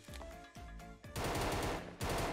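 Video game automatic gunfire rattles in rapid bursts, several sharp volleys separated by brief pauses, loud and close with no talk.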